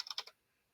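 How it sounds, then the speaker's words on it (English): A computer keyboard typing out a place name: a quick burst of about four crisp, close keystrokes in the first third of a second, then near silence. "I'm going to go ahead and type in Kotzebue,"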